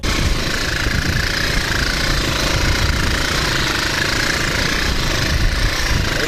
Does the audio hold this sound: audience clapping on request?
no